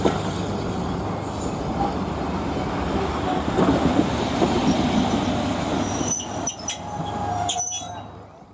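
A heritage railway train on the Nene Valley Railway rumbles along steadily with rhythmic clacking of wheels on track and occasional metallic squeals, heard from inside a carriage.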